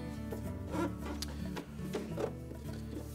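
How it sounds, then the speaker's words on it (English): A Whirlpool dryer inlet duct assembly slides off the blower housing, giving a close scraping, rubbing sound of plastic parts dragged against each other in a few short strokes, with no speech. "Then we could just slide the inlet duct assembly away from the bulkhead"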